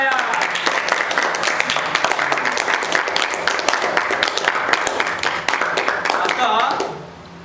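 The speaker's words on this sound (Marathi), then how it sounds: "त्यांचं टाळ्या वाजवून स्वागत करा." An audience claps steadily for a program's chief guest at a village Ahirani literary gathering and drama, dense applause filling the hall for about seven seconds before fading out, with voices mixed underneath.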